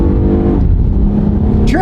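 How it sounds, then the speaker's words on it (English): A Honda V6 car with 220,000 miles accelerates on the road, its engine humming loudly and steadily from inside the cabin, with a brief rising tone near the end. "give it some gas. This is that Honda V6."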